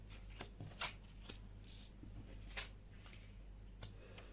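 Tarot cards are shuffled in a quiet room, giving soft, close riffling flutters and taps repeated at irregular intervals, faint overall.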